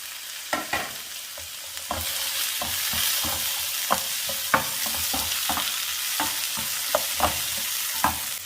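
Chillies and tomato for a chutney fry in a pan under a steady sizzle, and repeated sharp clicks and scrapes of a spoon stirring against the pan punctuate it at an irregular rhythm.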